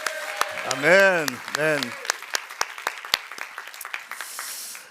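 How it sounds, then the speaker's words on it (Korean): A church congregation at a New Year thanksgiving service claps after a spoken word, the claps close and distinct and landing in an even, rhythmic pattern that fades toward the end. "우리 좀 큰 박수와 함성으로 챔피언 영필풀답게 크게 박수와 함성으로 주님께 경배합시다"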